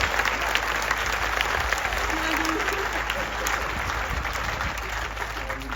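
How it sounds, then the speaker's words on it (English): An audience at the end of a set at Shrewsbury Folk Festival claps in steady, full applause that holds at an even level throughout, with a low hum beneath and some voices mixed in. "can we have a round of applause for the wonderful homestay people who have hosted us"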